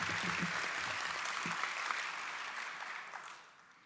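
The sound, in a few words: audience applause for Michael Huff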